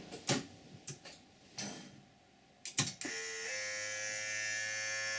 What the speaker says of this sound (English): We'll hear the back window coming down, which is normal on Freelander.